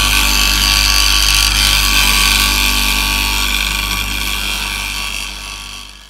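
A bowl gouge sharpened against a spinning grinding stone, a loud steady grinding hiss with a low motor hum beneath, sustained for several seconds and slowly fading, no talk.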